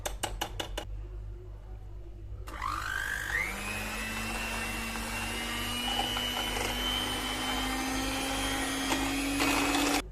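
An electric mixer whisks chicken-breast milk pudding, whirring steadily and close, its motor pitch rising slightly as it runs continuously after a few light knocks at the start.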